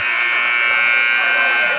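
A loud, steady electronic buzzer drones without a break, harsh and sustained, sounding a timeout at a girls' high school volleyball playoff match.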